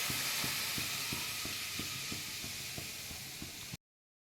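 Blended pineapple chutney sizzles steadily as it goes into a hot wok, a broad continuous hiss with regular clinking stirs, then cuts off abruptly.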